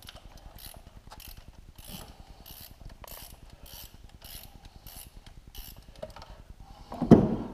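Ratchet wrench loosening the bolts of a car's thermostat housing during radiator work, a steady run of rapid close clicks ending in a louder clunk.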